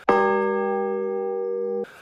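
A single bright notification bell chime rings out clearly and sustains evenly for nearly two seconds before cutting off, alone without any talk.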